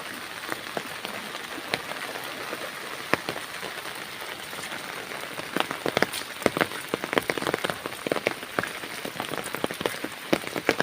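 Heavy rain falling during a flood in Barisal, a steady close wash of raindrops with sharp scattered taps and drips hitting surfaces, getting denser and more clattery toward the end, and no voices.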